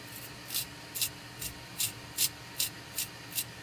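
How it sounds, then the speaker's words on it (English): Brush strokes scrub gunk off the nozzle of a da Vinci 3D printer, eight short, evenly spaced bristly swishes, close and fairly soft, with no talking. "we're going to use a brush that comes with it to clean the nozzle"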